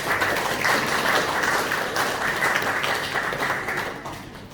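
Audience at an award ceremony for a letter-writing contest honoring Korean War veterans breaks into sustained applause, a full, even roar of clapping that tapers slightly near the end.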